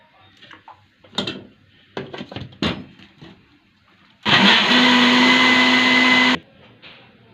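A few clicks and knocks, then a loud steady blender motor whirs through garlic sauce with a little oil for about two seconds before cutting off abruptly.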